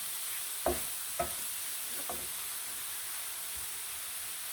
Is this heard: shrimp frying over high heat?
yes